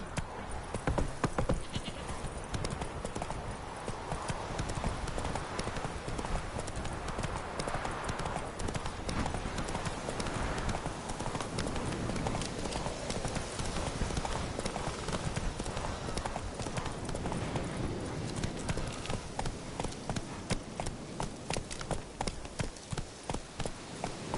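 Steady clip-clop of Geralt's horse Roach galloping in The Witcher 3: Wild Hunt, a fast, continuous rhythm of hoofbeats heard close, lasting throughout.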